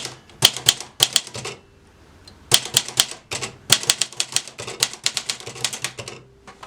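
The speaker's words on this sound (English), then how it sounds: "you cannot type too fast, otherwise you get stuck. That's a typewriter for you." Manual typewriter keys clack in quick bursts with short pauses between runs, each strike crisp and close, with no talking over it.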